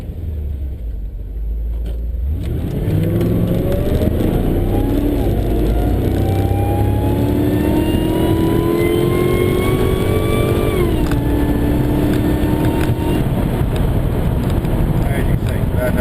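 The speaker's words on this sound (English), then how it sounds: "So we'll just take off here. I'll just go very gently to start off with, see if I can get it hooked up in first gear." A Whipple-supercharged 355 VQ Statesman pulls away gently in first gear, its engine note and supercharger whine rising steadily from idle, then easing back, with a constant rumble and wind noise on the microphone.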